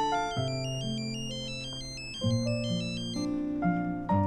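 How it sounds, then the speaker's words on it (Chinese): A mobile phone ringtone rings in a TV drama scene, a bright electronic melody of repeating tones playing loudly and steadily on its own, with no voices over it. "求姐来电话"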